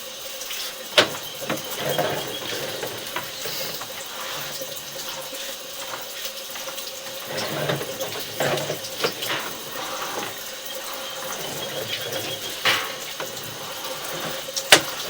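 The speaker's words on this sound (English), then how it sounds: "Since we are actively putting water down the line" Water runs steadily down a residential drain line during a camera inspection in Cheviot, Ohio, a continuous trickling wash with a few sharper knocks and splashes, fairly close and alone with no talk.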